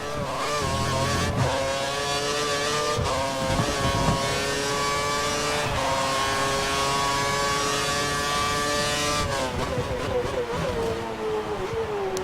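An F1 car's engine in the game F1 2013 at the Australian GP screams at high revs, pitch climbing and dropping through gear changes and braking, loud and continuous.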